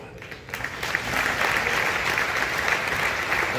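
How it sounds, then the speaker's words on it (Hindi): Audience applause filling a hall at a Hindi comedy stage show, starting thin and swelling within the first second into steady, dense clapping that holds evenly to the end, with no voices above it. "पीछे तक ईमानदारी से ताली बजा के बताना"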